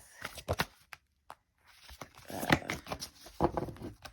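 Quick papery riffles and soft flicks of cards being shuffled up close, coming in short uneven bursts with a brief silent gap.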